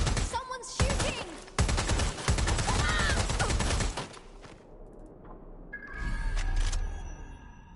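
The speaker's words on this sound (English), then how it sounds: "Someone's shooting!" Rapid gunfire bursts in the Watch Dogs Legion game, loud and close for about four seconds with dense repeated shots, then a quieter pause before another burst of shooting and chatter-like tones.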